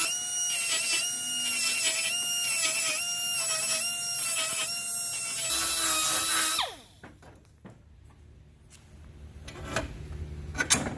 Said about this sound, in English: We're just going to hit it with a deburr bit just on the inside.